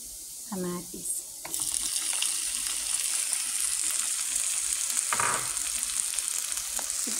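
Onion and tomato frying in a pan for shakshuka: a loud, steady sizzle that bursts in as the food hits the hot oil and hisses continuously, with brief stirring clatter.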